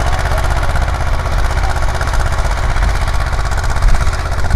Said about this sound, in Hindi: नवपाली के टेलर पे चला रहे हैं किसान साथी ट्रैक्टर को